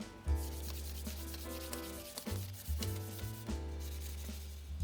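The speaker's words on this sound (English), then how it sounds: "A little bit of sanding." Steady back-and-forth sanding rubs over a wooden picture frame, close up, in several long strokes with brief pauses between them.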